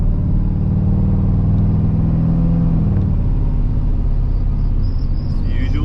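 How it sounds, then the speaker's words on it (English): A square-body Chevrolet Suburban's engine cruises down the road at the speed limit with a loud, steady low rumble and drone, heard from inside the truck with no talking. "It's the usual day, cruising around on my square body Burban, doing the speed limit and stuff."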